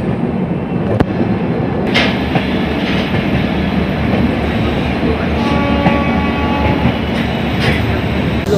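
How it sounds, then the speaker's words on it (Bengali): The Howrah–New Delhi Rajdhani Express pulls into a station platform: a loud, steady rumble of rolling wagons with rhythmic clickety-clack of wheels over rail joints and brief metallic squeals, continuous and close throughout. "এখানে প্ল্যাটফর্মে লাগছে হাওড়া থেকে নিউ দিল্লি রাজধানী এক্সপ্রেস"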